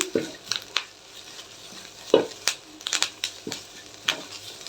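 Curry leaf powder mixture dry-roasting in a pan, giving off irregular crackles and scraping stirs, close and moderately loud, with no one talking.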